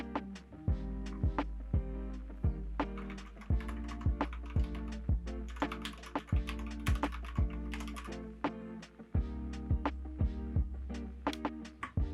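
Anne Pro 2 mechanical keyboard with spray-lubed switches and lubed stabilizers being typed on, a close, steady stream of soft clacks with occasional heavier thocks from the spacebar, no voices.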